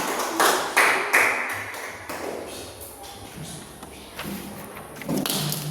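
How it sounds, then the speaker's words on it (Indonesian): Children in a classroom clap their hands in a scattered burst of rhythmic claps, loudest at the start and fading in the middle, with voices chattering over them. "Tepuk tangan"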